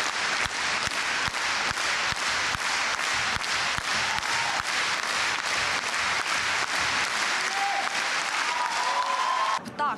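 Fans at a poetry concert of verses turned songs give thunderous, sustained applause, a dense wall of clapping holding steady for several seconds before breaking off abruptly.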